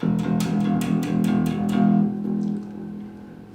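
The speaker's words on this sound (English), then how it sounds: "a bridge pickup, sounds like this" Bass guitar notes through a Thunderbird-style bridge pickup, a bright, punchy tone with a series of plucked attacks that ring out and fade near the end.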